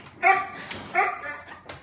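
A service dog in training gives two sharp, close barks about three-quarters of a second apart, followed by a softer, shorter yelp, with quiet gaps between them.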